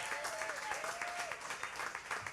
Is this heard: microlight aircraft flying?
no